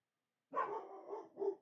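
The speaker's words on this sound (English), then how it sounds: "Sorry about the dogs." Pet dogs barking indoors at a squirrel outside, a short burst of several loud, close barks after silence, with no talking.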